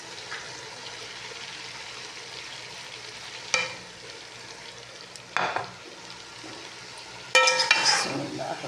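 Fried okra goes into a pan of ghee for bhindi masala, and a steady low sizzle rises into sharper hissing spurts and stirring scrapes three times. The pan is close and the frying runs continuously underneath.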